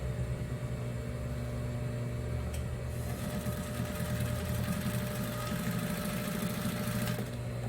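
Sewing machine running continuously while stitching a Christmas cushion, a steady close mechanical hum and rapid rhythmic clatter, slightly louder toward the middle.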